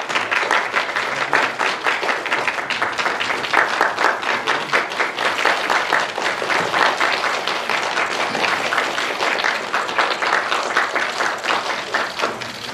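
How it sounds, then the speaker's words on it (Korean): A seated audience at a Ministry of Environment ceremony appointing climate change ambassadors gives a long round of applause, a loud, continuous mass of clapping that carries on evenly for over twelve seconds without speech. "다시 한번 큰 박수 부탁드리겠습니다"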